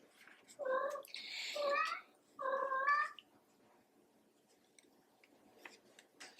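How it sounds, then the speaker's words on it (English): A cat meows three times in quick succession, clear and close, each call rising and falling, followed by quiet with a few faint ticks. "I don't know what you're meowing about."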